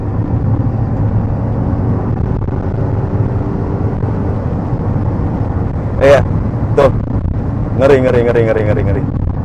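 A Chery Tiggo 8 Pro SUV's engine drones steadily inside the cabin under hard acceleration, with a constant low rumble. Someone talks briefly over it near the end.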